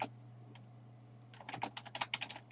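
Typing a document title on a computer keyboard: after a near-silent start, a quick run of crisp, close key clicks in an uneven rhythm, quiet and with no voices.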